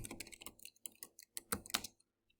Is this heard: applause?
no